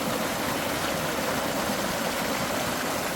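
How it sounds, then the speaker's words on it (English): Loud, steady rushing water in Kenya, a continuous broadband roar like a waterfall, close and unbroken with no voices. "Just listen to the sound of the water. Yeah. It's like a waterfall."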